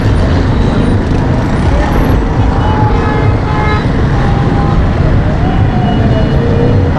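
Heavy, congested road traffic in Karachi roars as a dense, continuous wash of engines close by, with occasional horn toots rising above it.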